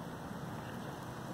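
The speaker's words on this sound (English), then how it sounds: "Now here comes the rain." Rain begins falling on a driveway during a stormy day, a faint, steady hiss of drops spattering the ground with no distinct individual strikes.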